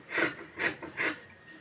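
Scissors cut through fabric for sewing in three soft, even strokes, rasping quietly and close by.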